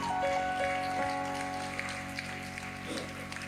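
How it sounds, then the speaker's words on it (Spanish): A church congregation claps continuously, a broad steady patter of applause mixed with sustained music tones, fairly loud throughout. "dale un aplauso al Rey de Reyes"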